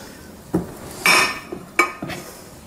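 Stuffed Italian-style artichokes being set into a cooking pot, giving a few scattered clinks and knocks of metal and dishware at close range with no talking.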